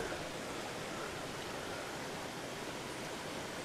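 Continuous broadband rush of river water flowing through El Yunque rain forest in Puerto Rico, faint and even without change, no voices over it.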